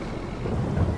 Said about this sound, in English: Man, even thunder and lightning.